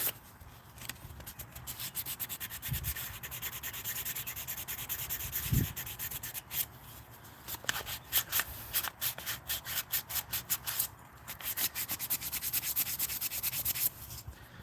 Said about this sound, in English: I actually wish I had a little dowel or something I could wrap this sandpaper on.